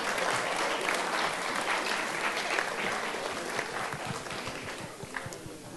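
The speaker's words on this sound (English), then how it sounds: "let's give a round of applause to all the contestants" An audience at a high school math tournament claps steadily for the contestants, a dense sustained applause that slowly fades toward the end.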